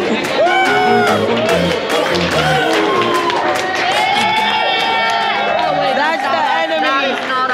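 A lively crowd at a college cheer and dance event cheers, whoops and chatters continuously, loud and close, with voices talking amid the noise.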